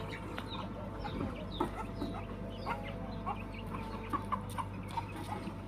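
Chickens clucking softly and repeatedly nearby, with scattered peeps and short calls over a low steady background hum.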